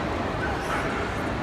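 A dog barks and yips during an obedience display at Crufts, short calls set against the dense, steady murmur of a large indoor crowd.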